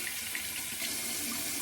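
Hot water running steadily from a sink tap while preparing for a safety razor shave, a continuous close splashing hiss with no talking.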